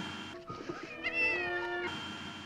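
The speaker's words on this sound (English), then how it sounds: "The cat is trapped in the wall." A cat trapped inside a wall meows in a drawn-out, rising and falling wail with a caterwauling edge, heard clearly over a faint background.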